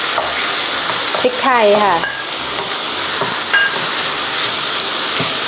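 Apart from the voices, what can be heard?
stir-frying filling with spring onions and pepper in pan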